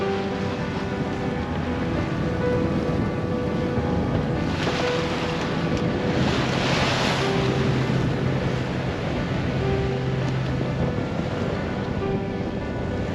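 Sailboat under one reef at sea off Southsea and the Isle of Wight, with steady wind roaring across the microphone and waves washing against the hull continuously, a swell of louder rushing midway.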